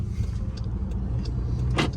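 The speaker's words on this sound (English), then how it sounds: "here's a car going by" A car passes on a road, a steady low rumble with a brief rising swish near the end.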